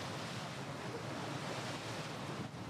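Waves rolling at sea around a tall ship, a steady, even wash of surf noise mixed with wind, faint and continuous without distinct breaks.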